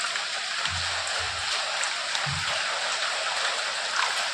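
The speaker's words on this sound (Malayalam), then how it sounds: "അപ്പോഴത്തേക്ക് ഇതാ പുറത്ത് നല്ല മഴയാണ് കേട്ടോ" Heavy rain pours down outside a house, a steady broad hiss that never lets up, with a few dull low thumps nearby.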